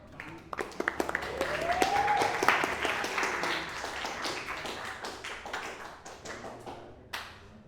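Classroom students applauding a classmate, a few scattered claps at first swelling into brisk group clapping, then thinning to sparse claps with one last clap near the end.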